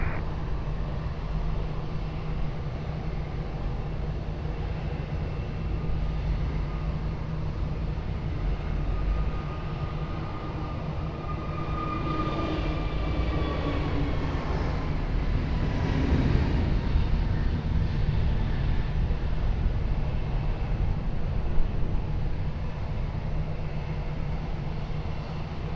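Airliner departing from runway 20 at Lisbon Airport, a steady broad engine roar that swells and holds at a distance, with a faint rising whine in the middle, alone without voices.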